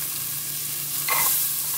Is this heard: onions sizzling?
yes